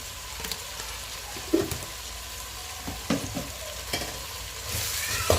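Steady sizzling of veg pulao spices with coriander-cumin powder and salt in a pan, with a few scraping stirs of a spoon at intervals, close by and moderately loud, no talking.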